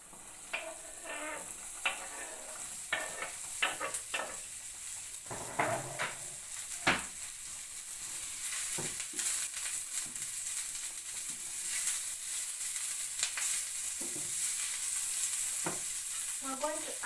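Minced onion sizzles steadily in a hot pan, broken by sharp scraping and clicking strokes of a utensil stirring it. The hiss grows denser and louder toward the end, with no talking.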